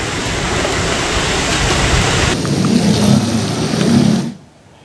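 Heavy hailstorm with rain pours down as a dense, loud roaring wash in Jakarta, shifting in texture midway and then dropping off sharply near the end, with no voices.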